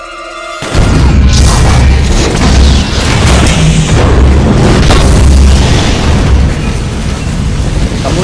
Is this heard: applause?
no